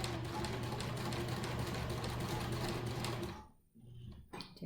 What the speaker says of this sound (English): I'm going to continue with that seam